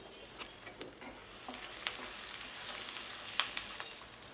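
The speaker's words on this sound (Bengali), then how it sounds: "তেল গরম করে এর মধ্যে আধা কাপ পেঁয়াজ দিয়ে পেঁয়াজটাকে একটু ভেজে নিচ্ছি।" Half a cup of onion fries in hot oil for a spiced beef tripe dish, a faint, soft sizzle with occasional light stirring ticks and scrapes, quiet and close.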